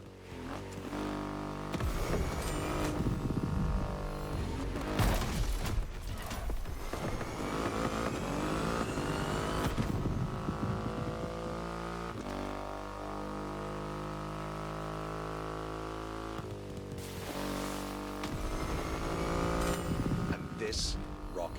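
A Triumph Rocket 3 motorcycle with a 2.5-liter engine in the video game The Crew Motorfest, its deep engine drone and revving running continuously beneath narration and music.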